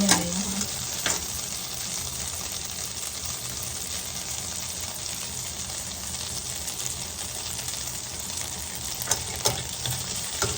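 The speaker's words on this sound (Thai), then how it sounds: "ทอดปลาด้วยผักเผ็ดกับเนยค่ะ อันนี้เป็นเนยเค็มนะคะ" Fish and spicy chili vegetables fry in salted butter in a pan, giving a steady close sizzle with a sharp crackle at the start and occasional stirring scrapes.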